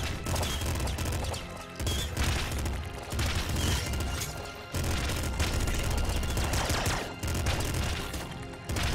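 Dense, continuous rapid gunfire from a double assault rifle in the Nuclear Throne video game, loud and nearly unbroken over game music and effects, with short gaps between bursts.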